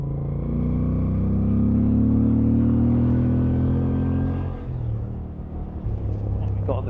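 A 2025 Moto Guzzi V7 Sport engine drones loud and close while riding, pitch rising steadily through the gear before easing off, then pulling again.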